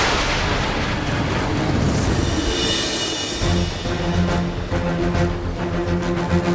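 A loud explosive blast effect for a fantasy TV episode, a broad dense roar filling the opening seconds and then giving way to a sustained rumbling tone with steady pitched layers, with no talk over it.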